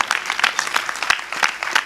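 An audience at a Gujarati folk literature stage program claps in a burst of applause, dense overlapping hand claps at steady strength for about two seconds with no talk.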